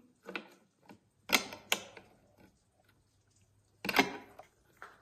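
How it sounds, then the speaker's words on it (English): A wrench tightens a thin nut on a Jonsered chainsaw during a repair, giving short, sharp mechanical clicks and ratcheting bursts in separate clusters, close and fairly loud against a quiet background. "got the right wrench. I'm gonna tighten this up"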